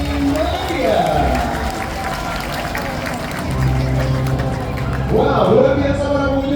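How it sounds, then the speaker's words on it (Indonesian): Audience applause at a tiger show at Taman Safari Indonesia in Bogor, a steady wash of crowd clapping running under a man's loud amplified announcing voice throughout. "terima kasih sekali atas sambutan tepuk tangan meriah dari Anda"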